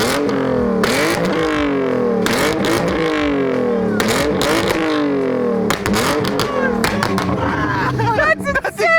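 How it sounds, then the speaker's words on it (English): A BMW E36 fitted with a full custom exhaust and blast pipes revs hard again and again, each loud, rasping surge rising and dropping, with excited voices and crowd chatter around it. "So we got the whole exhaust on my car."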